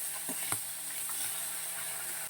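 A hilsa fish head fries in a wok with a faint, steady sizzle and a few soft scraping knocks, quiet and close with no talking.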